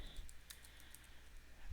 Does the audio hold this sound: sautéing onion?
no